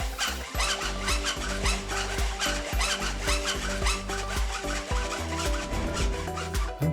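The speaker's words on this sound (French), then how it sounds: "Puis sciez." A roller shutter slat being sawn during installation: quick, regular back-and-forth strokes that rasp continuously and close by for several seconds over a steady tonal background.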